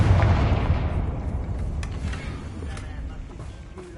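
A Confringo fire spell detonates in the Hogwarts Legacy video game, one loud booming blast that hits at once and then rolls off in a long rumbling decay, with a few faint crackles trailing.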